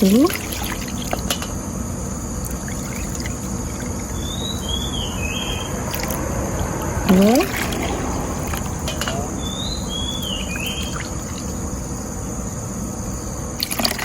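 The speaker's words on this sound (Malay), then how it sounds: "sekarang saya nak sukat santan tu tadi kepada empat cawan santan" Coconut milk measured into cups while making layered custard kuih, a faint trickle and pour of liquid against a steady background hiss, with brief clinks and an occasional bird chirp.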